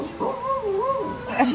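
A pet dog indoors gives a brief, wavering whimpering howl that rises and falls in pitch, close and moderately loud, lasting just over a second.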